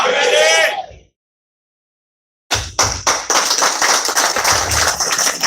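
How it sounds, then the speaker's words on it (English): After a shout and a brief silence, a crowd bursts into loud applause with whoops and cheers at a town hall meeting in Toronto, sharp claps building into sustained clapping. "A round of applause for you."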